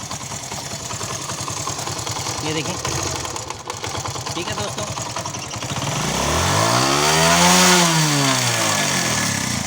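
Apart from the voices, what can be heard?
motorcycle engine idling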